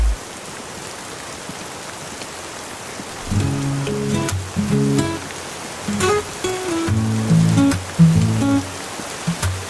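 Steady rain falls across an outdoor natural setting, a constant wash of patter that runs the whole time, joined partway through by louder tonal notes layered over the downpour.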